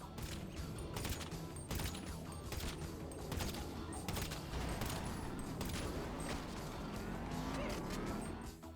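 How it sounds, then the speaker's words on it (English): A Carbine Rifle Mark II firing in GTA Online lets out steady rapid shots in a continuous string, mixed with engine and mechanical noise in a busy, dense scene. "Testing the Carbine Rifle Mark II with the damage resistance buff from the gym"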